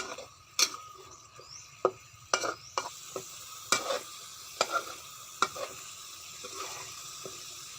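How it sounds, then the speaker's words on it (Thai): Irregular scraping and clacking of a utensil stirring chili paste with seasonings in a pan, with a faint sizzle underneath; no voices. "เราต้องผัดพริก เครื่องปรุงที่อยู่ในนี้ให้สุก"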